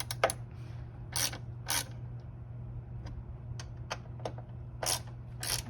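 Button head Allen bolts being tightened while fitting a ZeroSR rack, heard as quiet, close clicks and short ratcheting scrapes spread irregularly over a steady low hum, no talk.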